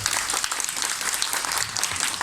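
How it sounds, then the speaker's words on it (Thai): An audience at a Thai clay-sculpture art event claps for the artists, a short burst of brisk, continuous applause from a crowd, fairly close and lively throughout. "ปรบมือให้กับศิลปินทุกท่านทีครับ"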